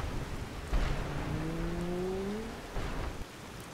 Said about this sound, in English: This is no ordinary storm.